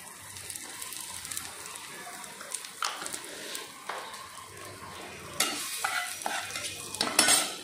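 Two bay leaves and asafoetida hit hot oil that has just fried pointed gourd, giving a soft sizzle with bursts of crackle and spatter that grow louder toward the end, alone without talk.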